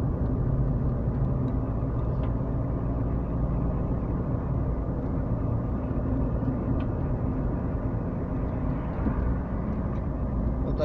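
Car driving a winding mountain road toward Arkhipo-Osipovka from Gelendzhik, a steady low engine and tyre rumble heard from inside the cabin, continuous and even.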